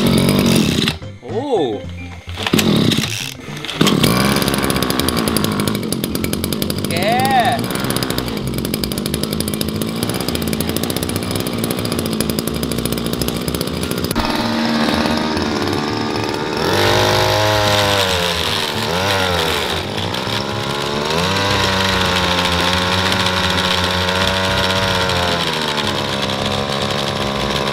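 A grass trimmer's small two-stroke engine, just fitted with a new recoil starter, coughs with a few sharp pull attempts, then catches and runs loudly and steadily, revving up and down close by, with a man's brief exclamation.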